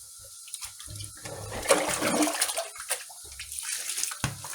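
Leeks are washed under running tap water, with a steady splashing stream and rustling, dripping sounds as the vegetables are rinsed and handled close by.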